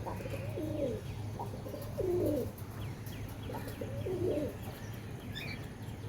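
Black-eyed Karnapura pigeons coo in soft, repeated throaty bursts, several rounds spread over a few seconds, with faint chirps and a steady low background hum.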